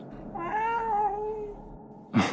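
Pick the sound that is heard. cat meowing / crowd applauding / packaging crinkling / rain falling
cat meowing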